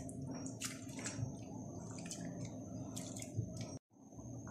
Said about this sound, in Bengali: এখন এটা আমি খুব ভালো করে ধুয়ে পানি ঝরিয়ে নিব।